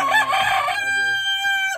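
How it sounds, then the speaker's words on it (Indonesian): A rooster crowing close by, one loud drawn-out call that starts rough and settles into a sustained tone before cutting off. "Ini ayam jago, gengs."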